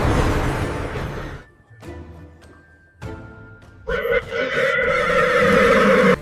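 A horse gives a loud, close whinny, a long shrill neigh rising over a music-filled fairy-tale scene, with quieter breathy snorts and stirring sounds in the middle.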